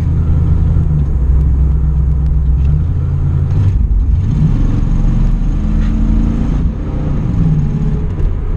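A classic second-generation Pontiac Formula Firebird engine rumbles low and steady in traffic, a deep continuous drone with slight swells as it idles and creeps forward.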